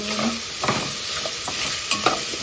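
A spoon stirs mung bean dish ingredients, seasoned with black pepper and seasoning mix, around a pan with garlic browning, giving soft scraping strokes over a steady sizzle. The sound is close and has no talk.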